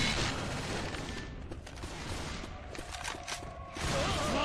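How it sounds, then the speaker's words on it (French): Mechanical clicks and ratcheting of a weapon being reloaded in Left 4 Dead 2, set against a dense, steady wash of game noise with occasional whooshes. "Je recharge!"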